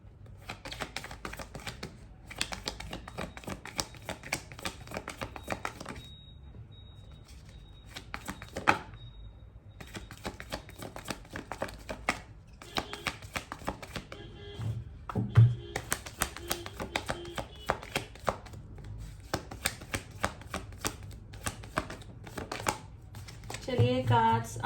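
Tarot cards being shuffled by hand for a love reading, a dense run of quick papery riffling clicks and taps in repeated bursts with short pauses, close and moderately loud, no talking.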